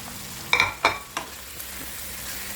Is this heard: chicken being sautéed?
yes